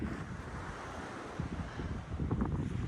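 Wind-driven ocean surf at Hopewell Rocks on the Bay of Fundy rushes steadily with gusty microphone wind noise, the wash swelling louder in the last second and a half; no one speaks.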